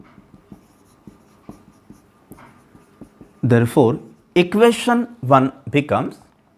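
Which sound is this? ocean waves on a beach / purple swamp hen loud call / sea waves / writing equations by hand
writing equations by hand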